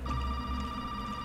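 Telephone ringing in the horror video game Resident Evil 7, a faint steady electronic ring tone held throughout a short moment with a low background hum beneath it.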